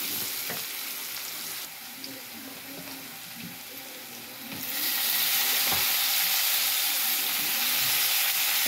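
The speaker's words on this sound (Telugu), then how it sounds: "వేసుకొని కలుపుకున్న తర్వాత వంకాయ ముక్కలు కూడా వేసుకుందాం" Onions, turmeric and eggplant pieces fry in a pan with a steady loud sizzle, a utensil stirring and scraping through them, the hiss swelling brighter halfway through as the eggplant goes in, close and continuous.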